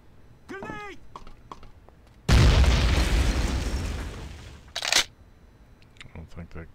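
A grenade blast in the tactical shooter Rogue Spear, a sudden loud, heavy boom that rolls into a long, noisy rumble lasting a couple of seconds, with a shout just before and a sharp crack after it.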